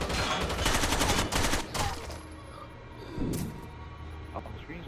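Turret gunfire in an Xbox 360 video game bursts in rapid machine-gun volleys, loud at first and then easing into scattered shots and game noise.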